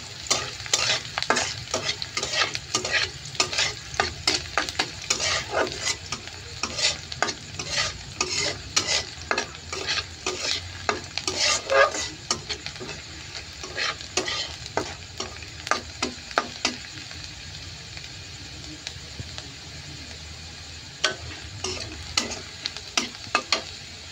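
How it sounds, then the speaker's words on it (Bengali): Food fries in a pan until browned while a utensil stirs it repeatedly, rapid scraping strokes over a steady sizzle, close and continuous. "একটু বাদামি করে ভাজবো"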